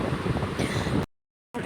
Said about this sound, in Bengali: এত সুন্দর হাওয়া দিচ্ছে